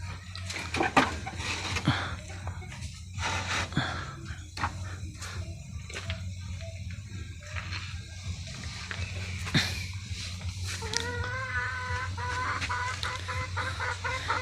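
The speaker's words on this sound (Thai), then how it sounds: "นี่ก็ไก่มาไข่ใช่ทุกคนนี่ไก่5 หน่วยเลย" A chicken clucks in bursts at a home bird-keeping setup, close and fairly faint, with scattered clatter and watery noise in between.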